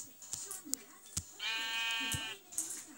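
A brown and a black sheep bleat in one sustained, wavering call lasting about a second, close by, with scattered clicks and soft voices around it.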